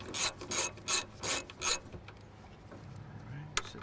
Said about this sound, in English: Then just break out a 10mm little socket and ratchet.